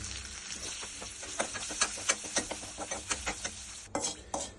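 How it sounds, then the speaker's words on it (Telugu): Spice tempering with asafoetida crackles and sizzles in hot oil for ridge gourd chutney, a spoon stirring and scraping the pan in short, irregular strokes; fairly quiet and close. "మన పోపు రెడీ అయిపోయిందండి, వేగిపోయింది"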